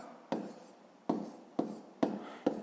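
Pen writing by hand on paper during a fifth-grade math exercise, five short scratchy strokes at regular intervals, each sharp onset fading away, close and quiet with no talking.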